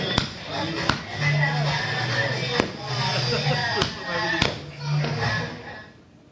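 Celebratory New Year 2026 fireworks in Gulmarg heard as several sharp, spaced cracks over a continuous bed of crowd noise and voices, fading out at the end.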